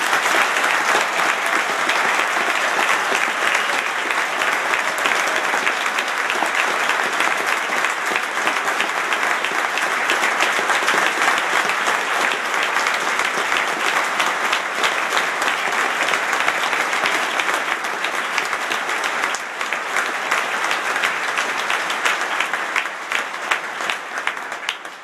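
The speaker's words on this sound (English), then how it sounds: "join me in congratulating you once more with a round of applause" An audience at a graduation ceremony claps for the new graduates in a long, loud, sustained round of applause that stays dense throughout and begins to fade only at the very end.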